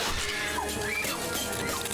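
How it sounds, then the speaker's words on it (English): Glass shatters in a horror film scene from Final Destination 3, a dense, noisy crash blended into a loud, busy soundtrack with no clear pause. "break the glass."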